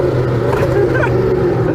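Hennessey Venom hypercar with a loud engine revving in a deep sustained rumble, the pitch shifting under a voice speaking nearby.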